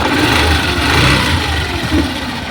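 A small gasoline motor runs close and loud with a rough, steady mechanical drone that swells slightly as it picks up speed, with no talking over it.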